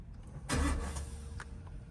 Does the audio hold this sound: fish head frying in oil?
no